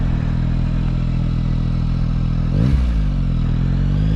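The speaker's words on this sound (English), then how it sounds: "Oh, this bike is a riot to ride." Yamaha XSR 900 motorcycle being ridden, its engine droning steadily and close up, with a brief rising rev partway through as the rider works through a turn.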